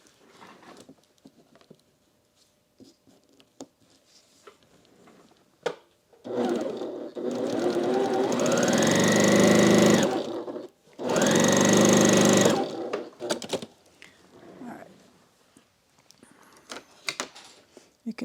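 A sewing machine stitches quilt pieces together in two sustained runs, the motor whirring up to speed, stopping briefly, then running again before falling quiet, with soft handling noises around it.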